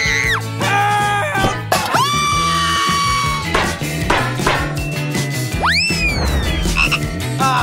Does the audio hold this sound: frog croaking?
yes